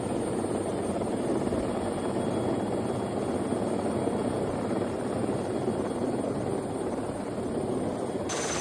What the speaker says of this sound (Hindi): बम्बू गांव के जांबाज सुल्तान सिंह राठौड़ ने अपनी जान हथेली पर रखकर बाढ़ से हेलीकॉप्टर से 16 लोगों को निकाला है।